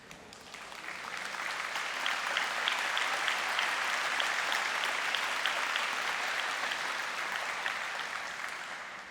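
An indoor audience at a career tech center completer celebration applauds students, a steady, dense clapping that swells and holds for several seconds with no voices over it.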